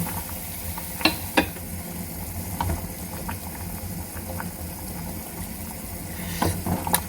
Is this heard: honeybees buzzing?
no